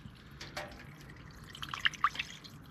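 Cold water poured over chicken in a cast iron casserole dish while cooking in a hot tent, faint close trickling and dripping with a few brighter splashes near the end.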